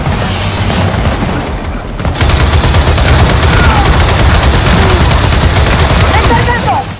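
Rapid bursts of gunfire and booming shots from a Gears of War 4 firefight, loud and continuous, with shouting voices amid the shooting.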